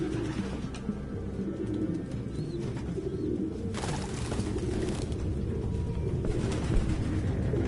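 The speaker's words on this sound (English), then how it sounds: "No human could live with all these fucking pigeons." Pigeons cooing inside a room in the video game Detroit: Become Human, several soft, repeated throaty coos layered over a constant low background hum, fairly close, with no speech.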